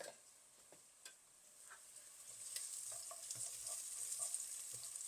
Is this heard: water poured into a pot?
no